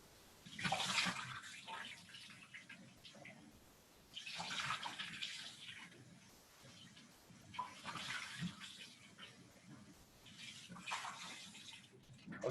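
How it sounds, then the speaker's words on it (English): Tap water runs in bursts as laboratory glassware is rinsed to wash off soap, several splashy rushes of water rising and falling over the span. "So rinse it with tap water."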